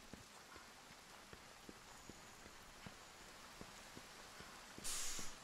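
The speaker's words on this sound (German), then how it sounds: "Es hört ja nicht auf zu regnen." Steady rain in Monster Hunter World patters with scattered individual drops tapping a surface, soft and constant, with a brief brighter hiss near the end.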